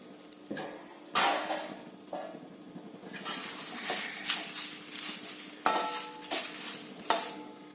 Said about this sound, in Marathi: त्यामध्ये आता आपण तमालपत्र गरम करून घ्यायचं आहे